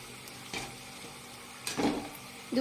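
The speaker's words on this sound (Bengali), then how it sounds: "দুদিকটাই ভালো করে ভেজে নেব" Raw banana and semolina patties fry in hot oil with a steady close sizzle, broken by a few louder crackling bursts as they are turned.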